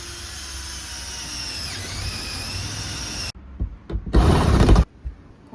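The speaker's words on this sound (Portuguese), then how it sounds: "Começou a furação da Saravan." A power drill bores a hole through the roof of a camper van: a whining, pitch-shifting drill runs for about three seconds, then stops, followed by a short, louder burst of drilling.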